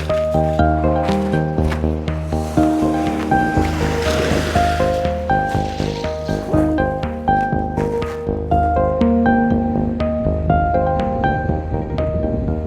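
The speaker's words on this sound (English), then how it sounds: "The sound of the waves is not helping the situation at all" Steady ocean waves wash and churn close by, with a bright tonal drone and scattered clicks running over the surf.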